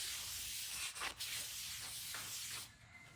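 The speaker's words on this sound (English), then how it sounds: "So I like to spray it down with a little brake cleaner here." Brake cleaner sprays onto a front brake rotor on a 2007-2008 Honda Fit, a steady close aerosol hiss with a couple of brief breaks before it cuts off near the end.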